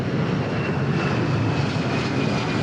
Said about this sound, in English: Looks like a Gulfstream G550 or 500. Looking sharp as it's taken off into the sky.